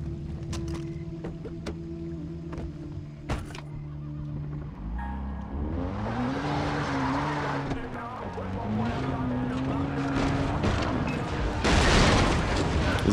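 A car in Far Cry 3 revs and accelerates hard into a group of tapirs, engine pitch climbing and falling with rough impacts and scraping noise, loud and close, with a voice briefly heard at the start.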